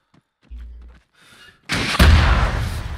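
A rocket launcher hit in the military shooter ARMA 3, a heavy close explosion bursting after a moment of quiet with faint sounds, then a loud sustained rumbling blast wash with a sharp crack inside it.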